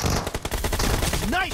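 Rapid bursts of gunfire from a mobile shooter game on an iPhone 13, dense and continuous under game music and effects, with a brief rising tone near the end.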